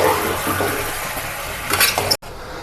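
A spoon scrapes and stirs chicken pieces in a hot pan over medium flame, with a wet sizzle under the busy clatter. The sound cuts off abruptly near the end.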